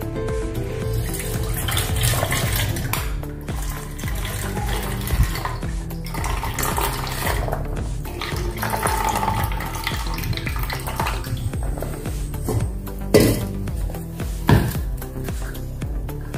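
Tap water runs steadily into a large pot while overnight-soaked kabuli chickpeas are rinsed and drained, with clattering of the metal vessel and sloshing over the constant flow.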